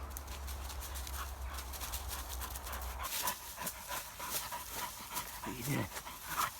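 A dog pants steadily while walking along a rough woodland path near timber merchants, with rustling movement and footsteps. The panting is fairly close and continuous, with brief higher whimper-like sounds toward the end.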